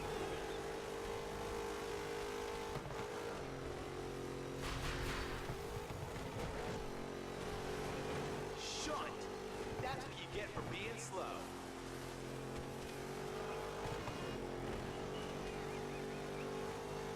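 Demolition derby race cars in the DIRT Showdown video game roar and rev continuously, with engine drones and scattered crash and scrape bursts, heard beneath steady commentary from a player throughout.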